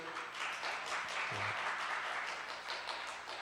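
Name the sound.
applause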